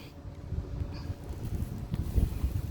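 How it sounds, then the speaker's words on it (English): A low, fluttering rumble of wind against the microphone, fairly quiet and unsteady, with a few soft gusts and no one speaking. "It's a little windy"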